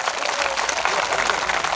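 Audience applause at a Gujarati religious anniversary gathering, a dense steady wash of many hands clapping that fills the whole stretch at even loudness.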